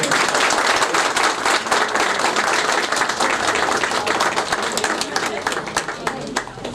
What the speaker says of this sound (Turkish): Evet hep beraber hayırlı uğurlu olsun alkışlıyoruz.